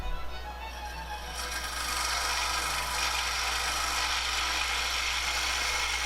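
A wood-turning scraper drags across spinning wood on a lathe, cutting close against the inside wall of the piece, giving a steady, continuous broadband rasping scrape that grows fuller after the first second and holds at an even level.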